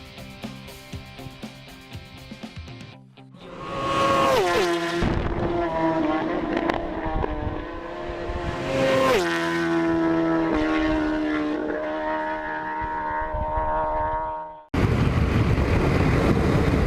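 A rebuilt Kawasaki ZX10 motorcycle engine on its first ride, loud and close, revving up and down through rising and falling pitch sweeps over steady wind rush, then cutting off abruptly into a different loud noise near the end.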